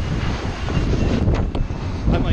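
A loud, steady roar of an airplane passing overhead at Fort Mifflin in Philadelphia, with wind buffeting the microphone throughout.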